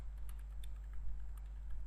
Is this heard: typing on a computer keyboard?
yes